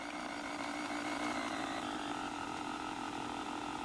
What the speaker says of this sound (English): We'll pull the little diesel forward,